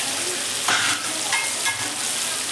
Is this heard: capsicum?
yes